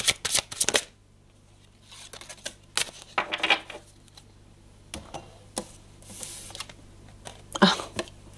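Tarot cards are shuffled and drawn in several bursts of quick papery riffling and slaps, with pauses between, close and fairly clear, and a faint voice briefly heard.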